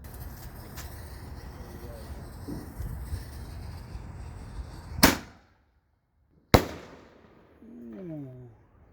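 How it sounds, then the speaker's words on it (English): RGS brand Baby Widows fireworks fire two sharp, loud bursts a second and a half apart, each trailing off in a short echo, with outdoor background noise and voices before and after. "got the Baby Willows by RGS brand fireworks, the good stuff"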